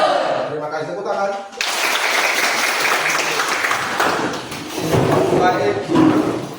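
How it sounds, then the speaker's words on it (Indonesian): Classroom applause rising abruptly after a quiet opening and holding as a steady, dense wash of clapping, with some voices mixed in underneath. "Terima kasih, tepuk tangan."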